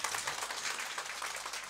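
An audience claps together at a Cantonese skincare training session, a short, dense wash of applause that stays fairly soft and even, with no voices over it.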